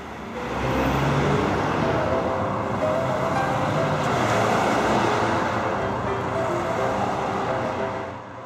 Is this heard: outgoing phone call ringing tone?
no